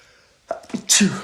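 A single sharp sneeze, close and loud, with a short inhaled build-up before the burst, in a podcast setting about NBA playoffs.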